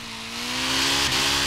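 In Forza Horizon 4, a Mazda RX-7 with a swapped six- or eight-rotor engine revs up hard, a loud buzzing engine note climbing steadily in pitch over a second and a half, with no voices.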